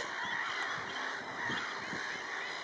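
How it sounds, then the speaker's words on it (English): Black-headed gulls call near their nesting area at a wetland bird reserve, a rapid stream of harsh, raucous cries from several birds overlapping, moderately loud and fairly close. "I'm sure you can hear those black-headed gulls."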